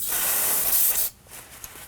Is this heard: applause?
no